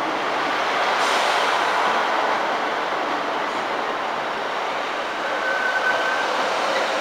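An East Midlands train rumbles steadily through Lincoln Central station, with a loud, broad roar that holds constant and a faint high squeal near the end.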